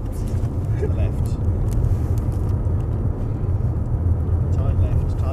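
A new Mazda 6 driving at speed around the Longcross proving ground test track in Surrey, giving a loud, steady low rumble of engine and road noise that runs unbroken throughout.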